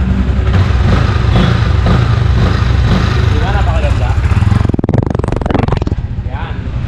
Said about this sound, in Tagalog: Pakinggan nyo guys yung andaran